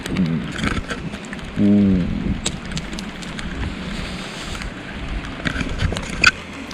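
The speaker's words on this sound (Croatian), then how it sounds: "Vani pljušti kiša." Steady heavy rain hiss outdoors with gusty noise, a brief low hum partway through and a sharp knock near the end.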